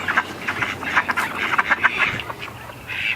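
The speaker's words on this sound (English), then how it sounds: "I'm sure you noticed all the B-roll of the ducks in the garden" Ducks quacking in a spring garden, a rapid run of nasal quacks from several birds, fairly close, with a louder call near the end.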